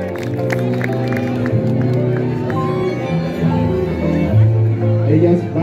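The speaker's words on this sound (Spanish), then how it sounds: "Un fuerte aplauso para ellas." A crowd at an outdoor festival of altars and living Catrinas applauds and cheers, the clapping blending into a busy wash of voices, music and hubbub that stays loud throughout.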